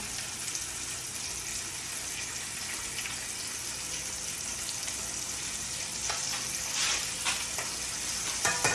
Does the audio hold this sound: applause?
no